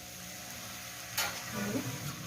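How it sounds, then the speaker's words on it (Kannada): A pan of tempered poha over heat, crackling softly, then a sudden brief hiss as a few drops of water hit it, followed by a gentle stirring sizzle close by. "ಇವಾಗ ಇದಕ್ಕೆ 1-2 ಕಾಳು ನೀರು ಚಿಮುಕಿಸ್ಬೇಕು."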